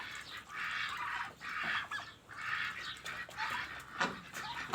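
Geese and young turkeys on a farm give a close, busy stream of honking and chattering calls, with overlapping bursts that rise and fall.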